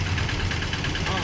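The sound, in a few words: Mitsuyama 550GE power weeder engine running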